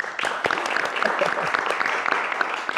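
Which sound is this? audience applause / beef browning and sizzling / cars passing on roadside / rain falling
audience applause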